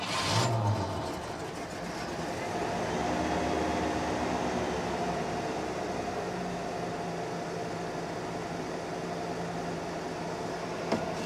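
Engine of a car over 35 years old that sat for years in the trees, idling steadily with a rough, droning hum and a vacuum leak, heard close for several seconds without talk.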